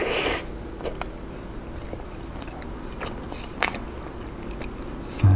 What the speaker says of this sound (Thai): ลองไม้นี้ก่อนซอสเน้นๆนะครับคำแรก